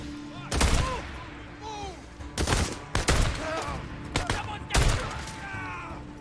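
Gunshots in the video game Days Gone, several loud close bursts of rapid fire separated by short gaps, with game voices and shrieking enemy cries between the volleys.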